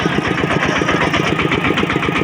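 A farm tractor engine runs steadily and loudly up close, a continuous mid-pitched chugging drone with a rapid regular pulse and no talk over it, on a trip to a market in Laos.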